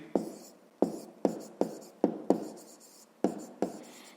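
Pen writing on paper during a fifth-grade maths exercise, heard as a series of seven or eight distinct scratchy strokes, each starting with a sharp attack and tailing off, close and fairly quiet with no voice.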